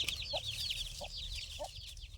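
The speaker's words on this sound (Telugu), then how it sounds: "కోడి తోట అంతా పిల్లల్ని తిప్పుకుంటూ తిరుగుతుంది" A hen gives three slow, soft clucks while chicks cheep continuously at a higher pitch around her.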